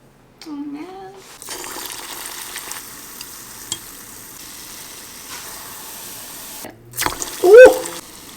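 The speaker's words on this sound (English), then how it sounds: "Alright, we're ready to fry." Tofu donuts fry in a pot of hot oil, giving a soft, steady sizzle with occasional bubbling and stirring clinks, faint and close, interrupted near the end by a brief louder exclamation.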